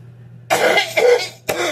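A person coughs twice in quick succession, close and dry, with a short pause between each burst and a faint low hum underneath.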